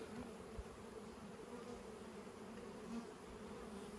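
Honey bees hum in a steady, dense buzz during honey harvesting with fume boards and bee shaking at the hives, a constant swarm drone with no pauses.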